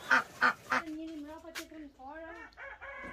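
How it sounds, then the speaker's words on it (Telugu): Village fowl kept inside a coop in Albania: three quick nasal quacks or honks open, then a drawn-out wavering crow-like call follows, close by and clear over quiet background. "కోళ్ళు బాతులు చాలా చక్కగా భద్రపరుచుకున్నారు లోపల."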